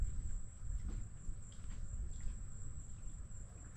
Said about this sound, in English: The bugs came out a little bit right at sunset